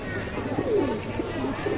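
Pigeons in a loft coo softly and repeatedly, low warbling calls rising and falling at close range over a steady background hum.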